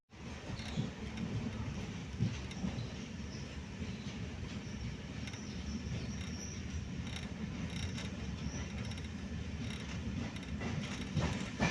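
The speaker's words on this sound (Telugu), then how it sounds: "నెక్స్ట్ గోదావరి నుండి బయలుదేరిపోయింది మన ట్రైన్" A steady, dense rumble of a MEMU passenger train running from Godavari station toward Kovvur, heard continuously from start to finish with rattling underneath and no clear voices.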